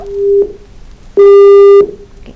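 Telephone busy signal after a cut-off call: two loud steady electronic tones, one short and one longer, heard alone on the line.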